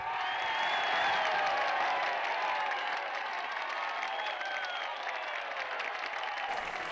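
A large audience at a music and fashion runway event applauds and cheers, dense clapping mixed with whoops and shouts, loud at first and then easing slightly toward the end.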